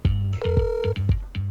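A telephone call is connected live during a talk show, and electronic ringing and connecting tones pulse in short, repeated bursts. The tones are clear and fairly loud, with no voices over them.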